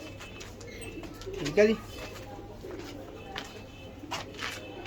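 Pigeons at a breeder's loft give a short low coo over a quiet background of faint rustling, with someone speaking briefly nearby.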